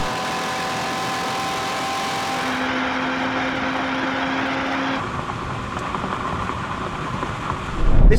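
A sports car, one of a Nissan Z, Lotus Emira, Toyota GR Supra or Porsche Cayman GT4, drones steadily at high revs in top gear during a drag race, then the tone shifts and rises to a loud burst at the end.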